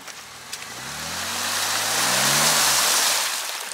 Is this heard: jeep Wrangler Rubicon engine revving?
yes